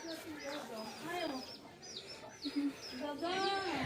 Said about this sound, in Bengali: হাঁস গেল হাঁসের ঘরে, মুরগি যাচ্ছে মুরগির ঘরে